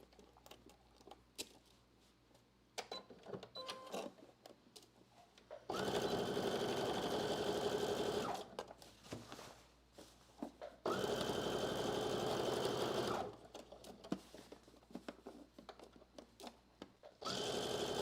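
A sewing machine stitches a muslin inseam in two long, steady runs of rapid needle chatter, loud and close. Quieter handling noises and shuffling come before, between and after the runs.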